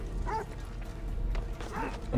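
A dog barks and yips in Assassin's Creed Odyssey, with a few short, medium-loud barks over steady game ambience and a louder bark at the end.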